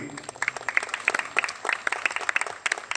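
An audience claps steadily and loudly in a hall, the applause a dense patter of many hands that swells and pulses throughout with no talk over it.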